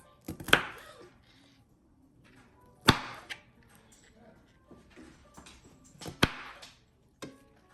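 A knife chops through food on a cutting board while beef and broccoli are prepared, giving a few sharp, distinct thuds spaced irregularly, some close together, with quiet handling noise and faint talk in between.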